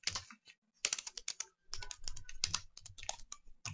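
Quick bursts of typing on a computer keyboard while writing Java test code, close and crisp, with clustered keystrokes separated by brief pauses.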